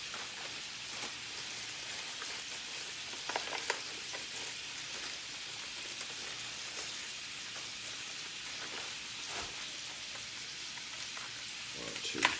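Onions sizzle in a pot for sausage and white bean soup, a steady soft crackle and hiss with faint scattered pops and light clinks, fairly quiet throughout.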